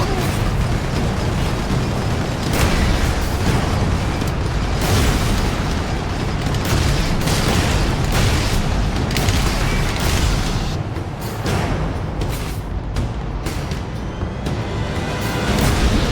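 Continuous heavy booming and bursting blasts from the Space Marine video game roar loudly throughout, dense and unbroken with rumbling low end.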